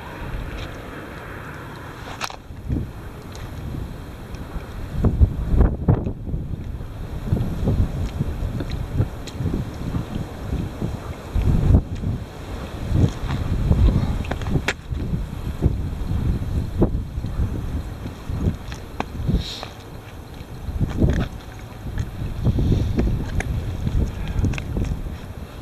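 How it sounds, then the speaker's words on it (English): Strong gusts of outdoor wind batter the microphone while hand-line fishing, making a continuous low rumble with repeated loud buffeting thumps throughout. "Wind's really kicking up"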